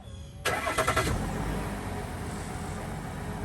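A 2021 GMC Sierra pickup with the 3.0L Duramax diesel cranks briefly, then catches and settles into a loud, steady idle heard from inside the cab.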